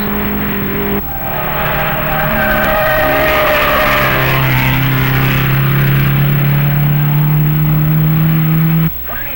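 1958 race cars cornering at Road America, a loud sustained engine drone with rising pitch as a car accelerates through the corner, other engines layered beneath, cutting off near the end.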